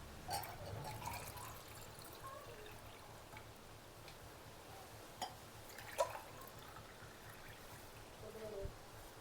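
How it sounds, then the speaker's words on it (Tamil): Ash gourd (white pumpkin) juice sweetened with maple syrup is poured into a glass, giving soft liquid trickles and a few small splashes over a quiet room background. "இப்போது கிளாஸில் ஊற்றலாம்"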